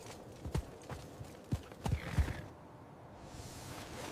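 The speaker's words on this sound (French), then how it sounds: "Les lourds chevaux de guerre glissent et perdent l'équilibre." Heavy war horses scrabble on ice at the 1477 Battle of Nancy, iron-shod hooves giving a handful of irregular, uneven clops and thuds close by, with no voices.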